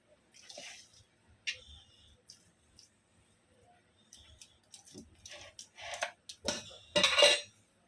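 A spoon stirs sweet batter in a pot, with scattered clinks and scrapes against the metal that grow busier and louder toward the end, plus faint background sounds.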